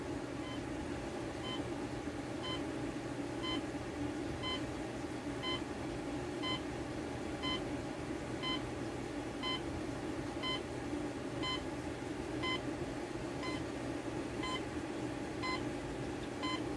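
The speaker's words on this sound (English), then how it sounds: "It takes a bit of time for the alarm to actually get loud." An Emerson CKS2862 clock radio alarm beeps in a steady, evenly spaced pattern, the repeated electronic tones sounding thin and faint over a constant background hum.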